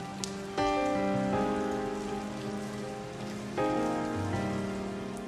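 Steady rain patters on a surface while soft, sustained musical notes play over it, changing chords a couple of times.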